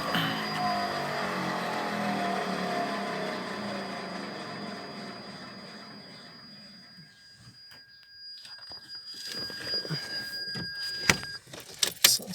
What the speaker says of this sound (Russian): Слышно, что с левой стороны подшипник уже не рабочий.